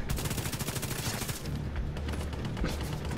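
Dense, rapid video-game gunfire crackles in bursts under a running soundtrack, loud and steady throughout with no speech.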